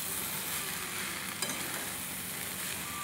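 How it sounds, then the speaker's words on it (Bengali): Papaya is sautéed and stirred in a pan, giving a steady, even sizzle throughout with one faint scrape partway through. "পেঁপেটা আমি খুব ভালোভাবে কষিয়ে নিয়েছি"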